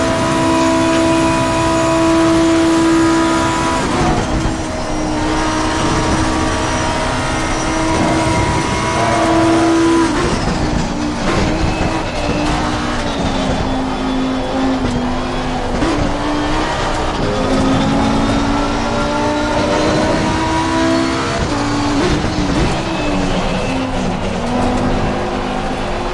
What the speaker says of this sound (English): it's a fast Maserati